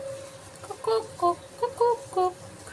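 A chicken clucks in a series of short, close calls, about five distinct bursts in quick succession, with no talking.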